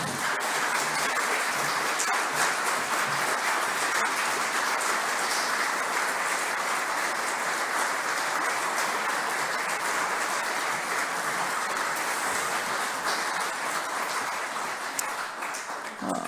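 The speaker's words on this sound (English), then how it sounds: "Let's give them a massive round of applause, please." A large awards-ceremony audience at the 2023 ACT Australian of the Year Awards applauds the nominees, a dense, steady wash of clapping that holds at full strength for the whole stretch before easing slightly near the end.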